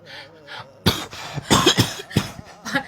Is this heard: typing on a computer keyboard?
no